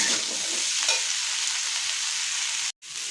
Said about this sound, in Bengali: তো আমি এটাতে থেকে কিছুক্ষণ আমি এরকমভাবে ভাজতে থাকবো আলুটাকে